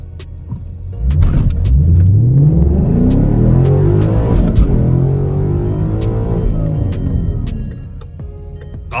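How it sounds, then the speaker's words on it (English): A daily-driver car fitted with drag radial tires makes a loud acceleration run, its engine note climbing through several gears with a rising roar and short dips between shifts, heard from inside the car. "we're gonna do an acceleration run right now"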